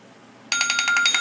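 A telephone ringing: a sudden electronic trill of rapid pulsing tones that starts abruptly, loud and close, with no voices.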